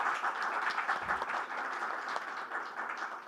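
Dense, even applause from a conference audience at a fintech festival, welcoming a panel moderator, sustained and fairly faint, with no talk over it.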